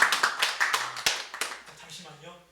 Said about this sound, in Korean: 혹시 박수로 환영해 주십시오.